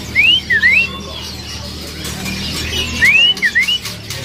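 Two bursts of bright, rising-and-falling whistled song from a female oriental magpie-robin, about three seconds apart, clear over a faint background hum.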